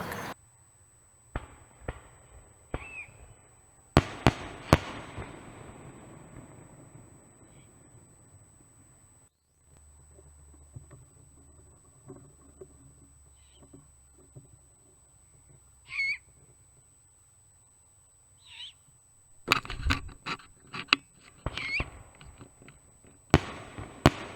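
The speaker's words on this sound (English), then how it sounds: "they were letting off some fireworks on July 3rd" Fireworks go off at night on July 3rd as a cluster of sharp bangs and crackles. A quiet stretch with faint scattered bird calls follows, then another burst of pops.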